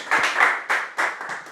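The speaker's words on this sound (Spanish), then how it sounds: "antes de cerrar, un pequeño aplauso para Antonio." A small burst of hand clapping from a group, lasting barely two seconds, with a few separate claps standing out.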